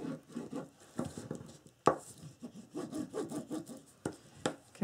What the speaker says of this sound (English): And burnish your tape.